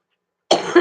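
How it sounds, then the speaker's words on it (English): A single close, sharp morning cough breaks out after a moment of silence, with a short second push near the end. "I always cough in the morning"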